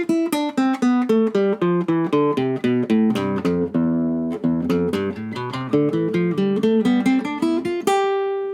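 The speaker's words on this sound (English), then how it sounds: "And it would sound like this, just a normal Phrygian scale." A guitar picks a normal Phrygian scale note by note in an even, quick rhythm, rising and then falling back. Each bright, clear plucked note rings close up, ending on a held final tone.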